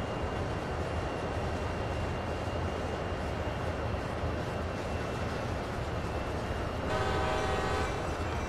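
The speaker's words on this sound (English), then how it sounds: "There's another train just passing us." A freight train passes in the Train Sim World CSX Heavy Haul game, a steady rumbling roll of wagons with a brief horn-like tone near the end, no voices.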